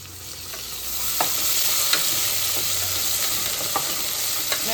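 Hot oil spatters and sizzles in a pan while a spoon stirs, a steady hiss broken by a few sharp pops and scrapes.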